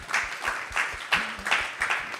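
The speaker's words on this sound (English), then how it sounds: "we should give a round of applause to her here" Audience at a temple talk applauding, a burst of clapping with uneven, loose rhythm, moderately loud and close, lasting a couple of seconds with no speech over it.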